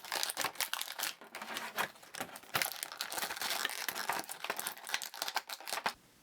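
Plastic packaging crackles and crinkles in quick, irregular bursts as a cape is pulled out of a cut-open blister box holding a Mattel Batgirl classic Batman TV action figure, close and fairly loud with no voices.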